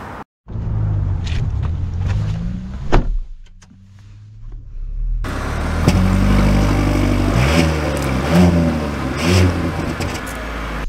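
A 2024 Volvo V90 Cross Country wagon sets off. The cabin first gives a brief click and a quiet electric whir. Then engine and road noise swell into steady driving, with rising engine tones as the car gathers speed, heard close from inside.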